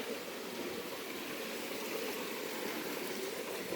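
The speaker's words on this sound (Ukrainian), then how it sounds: "Такий струмочок, струмочок. І витікає." A small stream beside a hotel in the village of Vyshka flows steadily with a soft, even rushing and trickling murmur, continuous and close, with no talking.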